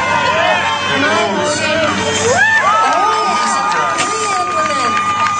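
A crowd at a strongman strength show yells and cheers to urge on a lifter attempting a 250-pound axle lift, with steady loud shouting and whoops throughout.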